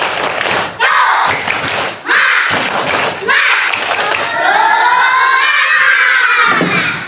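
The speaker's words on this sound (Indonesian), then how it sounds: "Tepuk semangat" Schoolchildren in a classroom perform a rhythmic spirit clap led by their teacher, bursts of clapping and shouted chant in several loud waves, ending in a longer group cry.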